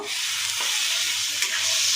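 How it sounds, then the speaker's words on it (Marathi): Steady, dense sizzling of chicken frying in hot ghee, with a brief stir or clink near the end; continuous and close, no voices. "तूप चांगले तापले की त्यामध्ये आपण हे चिकन हलवून सोडायचं आहे"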